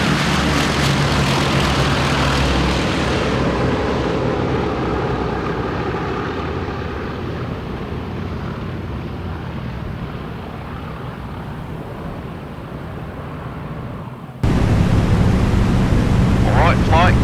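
An A2A B-17 bomber flying in formation in Flight Simulator X, a loud, broad engine roar that fades slowly and then cuts abruptly back to full strength near the end.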